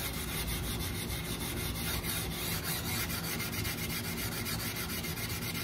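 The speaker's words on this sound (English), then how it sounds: "I'm just going to be using a number one steel wool and scrubbing" Number one steel wool scrubbing an old, dirty finish off wooden furniture with denatured alcohol, a continuous fast back-and-forth rasping that stays close and steady throughout.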